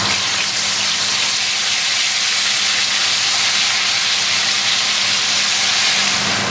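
Onions and garlic hit a hot pan with dissolved shrimp paste for a Javanese bami sambal hot sauce, giving a loud, steady, hissing sizzle that continues unbroken, close up and without talk.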